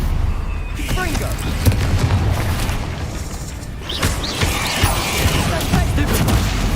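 Confringo blasting spells bursting in Hogwarts Legacy, a dense run of booming impacts and crackling blasts mixed with other spell effects, loud and continuous throughout.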